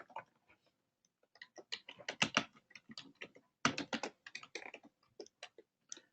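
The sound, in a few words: typing notes on a computer keyboard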